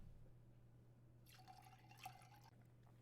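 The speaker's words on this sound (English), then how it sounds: "The sound of more gin splashing into my mug." Gin pours briefly into a mug with a soft splashing trickle over a low steady hum, quiet and close.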